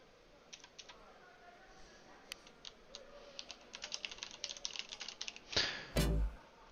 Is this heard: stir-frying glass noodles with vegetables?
no